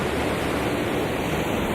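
Ocean waves washing onto a long white sand beach on the Indian Ocean coast of Madagascar, a dense continuous roar of surf, loud and steady, with no voices.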